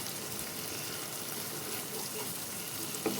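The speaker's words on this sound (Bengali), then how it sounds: "ভালো মতো করে আবারও কষিয়ে নেব সব কিছু একসাথে।" Onions and spices sizzle in a pan for a Bengali-style Rui fish curry, a steady close crackling hiss throughout with a faint scrape near the end.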